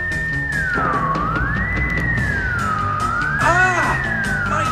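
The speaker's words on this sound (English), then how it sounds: "at once the air is filled with a piercing, ear-splitting sound" A loud, piercing electronic wail that sweeps up and down like a siren, continuous and harsh, with a brief warbling burst near the end.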